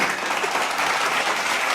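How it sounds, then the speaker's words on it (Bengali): A crowd claps loudly together, a dense, even wash of applause from many hands that continues without a break and carries no voices. "এটা ইতিহাস তৈরি হচ্ছে জোরে হাততালি হবে সবাই মিলে"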